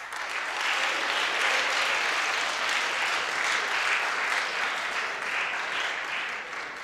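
Audience at a school fall athletic assembly applauding an award, a full, continuous roar of many hands clapping at once that swells quickly, holds steady for several seconds, then tapers slightly at the end.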